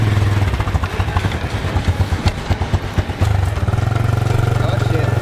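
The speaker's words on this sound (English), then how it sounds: "Motor lu, Ki? Udah ketemu? Udah, keluarnya susah" A motorcycle engine runs close by, idling with a low steady throb, then loping unevenly before settling back into a smooth idle, with speech mixed in at times.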